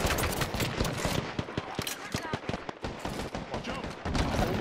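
Rapid gunfire in a team shooter video game, dense bursts of sharp close shots and automatic fire in an uneven rhythm, loud throughout, mixed with other battle noise.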